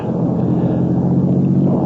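Thunder in a rainstorm, a radio drama sound effect, rolls as a loud, continuous deep rumble with a steady rain-like hiss and no voices over it.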